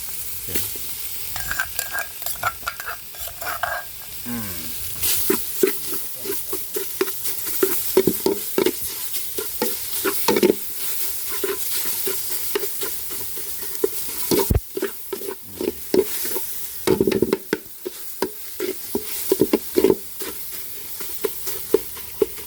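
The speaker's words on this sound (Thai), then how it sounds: "เครื่องที่ตำกับ แกงครับ ลงไปคั่วกันเลย" Pounded curry paste is stir-roasted in a pan with a constant loud sizzle, broken by frequent clattering scrapes of a utensil stirring through the paste. No voices are present.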